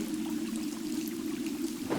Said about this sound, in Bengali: বৃষ্টি শুরু হলো